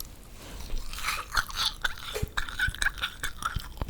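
Close, crisp squeaky chewing of springy, spongy rasgulla, with repeated rubbery squeaks and crunches in an irregular rhythm, no talking.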